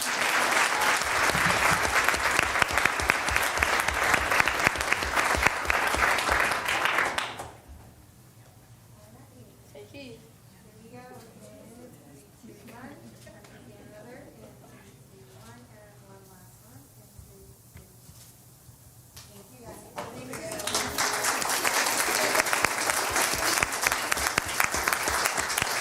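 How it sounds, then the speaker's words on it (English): Crowd at a school district governing board meeting breaks into loud sustained applause, which stops for a quieter stretch of speech in the room, then swells again into full clapping. "Let's give them one more round of applause."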